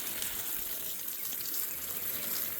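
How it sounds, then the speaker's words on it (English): Water pours steadily onto herb plants in a garden, a continuous close hissing gush with no pauses. "watering the herb plants"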